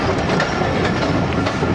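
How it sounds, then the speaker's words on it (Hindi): Ghouri Express passenger train from Faisalabad to Lahore arriving near Lahore Junction, a steady, loud rumble of wheels on rails with rhythmic clickety-clack, heard up close without talk. "6:27 और फारुखाबाद पहुंच रही है ट्रेन।"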